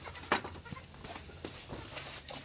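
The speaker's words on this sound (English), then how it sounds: "The goat got loose." A loose goat gives a faint bleat outdoors at night on a farm, distant and brief against a low, noisy background.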